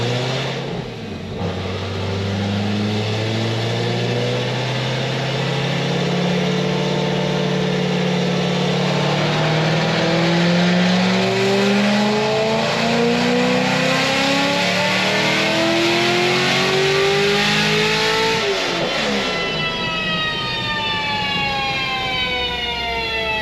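A supercharged 950 hp LS3 Corvette engine on E39 fuel revs hard and long, pitch climbing steadily to a loud peak near the end, then dropping sharply, with supercharger whine above the roar.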